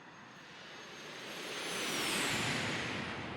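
Epic Victory jet in X-Plane 11 making a flyby, a broad roaring rush of jet engine noise that swells gradually and peaks near the end.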